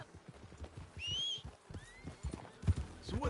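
A horse in the Red Dead Redemption 2 video game gallops off with rapid hoof clip-clops and a sharp whinny, the hoofbeats quick and close, layered with faint game ambience.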